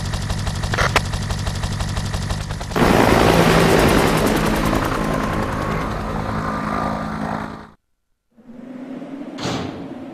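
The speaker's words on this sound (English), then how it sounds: "Nikolai beat us to the chopper." A helicopter in the Resident Evil video game, a loud rapid rotor chop that swells into a dense roar, then cuts out abruptly before a brief return with a sharp burst.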